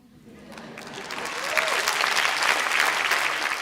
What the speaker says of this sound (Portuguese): A plateia rompe em palmas com a fala de Márcia.